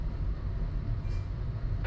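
Interior of an LTG Link passenger train running from Vilnius to Warsaw, a loud, steady low rumble of wheels and carriage with constant track noise and no talking.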